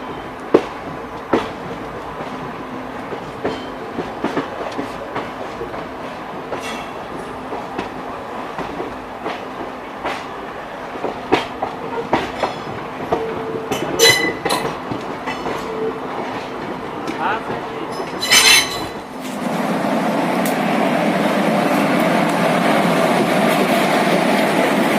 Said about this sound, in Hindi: हमने यहाँ समता एक्सप्रेस को ओवरटेक कर लिया है, वो खड़ी पैप 4 के साथ।